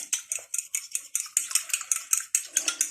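Utensil stirring an egg and vinegar marinade in a bowl, quick rhythmic scrapes and clinks repeating steadily, close and clear with no voice.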